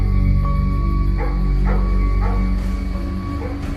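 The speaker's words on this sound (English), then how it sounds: "there was noises heard in the grounds, dogs barking." Dogs in the grounds of a country property bark in a few sharp, spaced yaps over a loud, droning low background.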